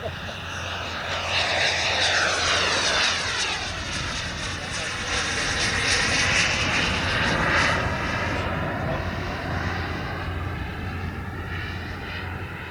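A large jet-powered RC model plane engine runs steadily up close, a loud continuous roar with a high whining turbine tone that shifts and sweeps in pitch over about thirteen seconds.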